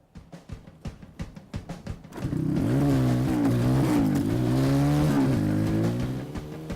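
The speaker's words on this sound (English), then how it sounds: "The mobility scooter did 71 mile an hour." A mobility scooter fitted with a motorbike engine: a lumpy idle of rapid firing pulses, then a loud sustained revving roar that rises and falls in pitch before easing off at close range.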